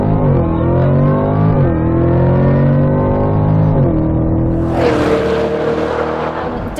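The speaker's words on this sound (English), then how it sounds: "We did a 0 to 100 launch in this car and it was just insanely quick." A 2025 Chevrolet Corvette E-Ray hybrid launches hard from a standstill, its engine roaring loud and close as it climbs through several rising gear pulls with brief dips at each shift, then a burst of wind and road rush.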